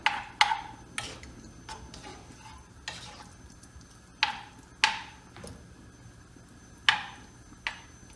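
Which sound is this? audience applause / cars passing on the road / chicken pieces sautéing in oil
chicken pieces sautéing in oil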